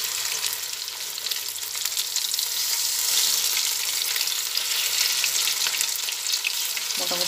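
Bhetki fish pieces fry in hot oil, a steady crackling sizzle throughout with faint scraping as the pieces are turned one by one, no talking.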